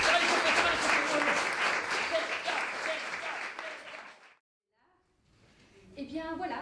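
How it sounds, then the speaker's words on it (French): Slam show audience at the Schaerbeek festival breaks into dense, loud applause that runs steadily for about four seconds, then cuts to near silence before a voice and faint crowd noise return. "applaudissements"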